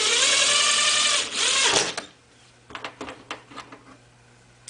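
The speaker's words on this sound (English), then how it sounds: "drive three number 10 sheet metal screws with 1/4-inch washers into the indents" A power driver whirs at high speed, driving number 10 sheet metal screws with washers into a metal strut on a rooftop pipe support block, then stops, leaving a few faint clicks and taps.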